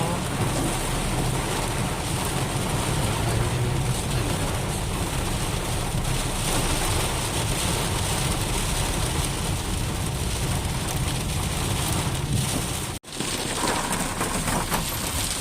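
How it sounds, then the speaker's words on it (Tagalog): Heavy rain pours steadily on a morning drive in Dubai, a constant broadband hiss, with a brief dip near the end. "Malakas na ang ulan."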